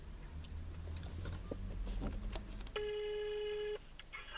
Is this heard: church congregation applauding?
no